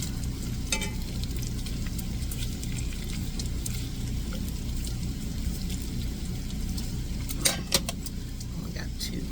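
Bacon strips fry in a crowded pan with a steady, close sizzling hiss and a couple of small clicks near the end.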